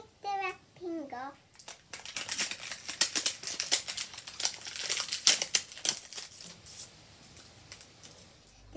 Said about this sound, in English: I will pull the zipper, take the wrapping off.